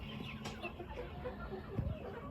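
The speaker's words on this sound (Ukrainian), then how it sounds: "Ось курочка барбаз'є." Barbezieux chickens clucking in a poultry yard, soft scattered hen clucks among low farmyard noise, with one slightly louder cluster of clucks near the end.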